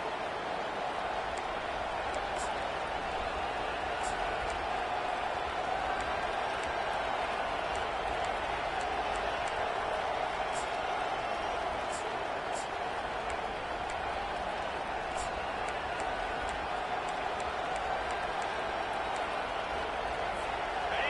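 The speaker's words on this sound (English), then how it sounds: "with this place rocking, the crowd forces a false start" Steady stadium crowd roar in an American football video game, a broad continuous wash of cheering and murmur with faint sharp accents, running under a game commentator's voice throughout.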